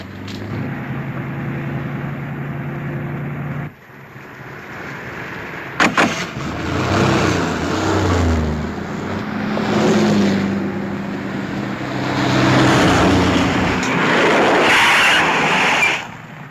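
A 1940s car engine starts up and drives away, a loud, steady motor drone that fades briefly before surging again with a sharp clunk, and low voices sometimes cut in over it.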